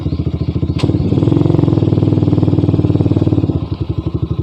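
A Gamma 200 motorcycle fitted with an SC Project muffler idles loudly up close, its exhaust a rapid, steady, throbbing putter that rises briefly in a rev and settles back, with no talking.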